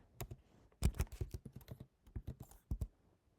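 Keys clatter on a computer keyboard in irregular bursts of quick taps with short pauses, close and crisp, with no voices.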